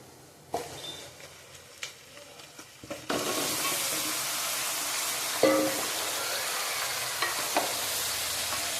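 Marinated pieces of goat head meat drop into a pan of fried onions and set off a loud, steady sizzle after a few quieter clinks and stirs, with occasional scraping and bursts of spattering.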